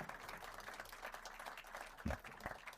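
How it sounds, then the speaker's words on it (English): A round of applause from the audience at a congressional military family summit honours a panel after a mental health session. The clapping is faint and distant, with a sustained patter and a couple of louder bumps near the end. "Let's give Mr. Dickinson and his panel another round of applause"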